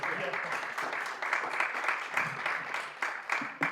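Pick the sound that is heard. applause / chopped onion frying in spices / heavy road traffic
applause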